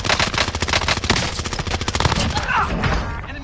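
Rapid automatic gunfire rattles in Call of Duty: Vanguard, a dense burst of close, loud shots fading into scattered reports and a brief tail.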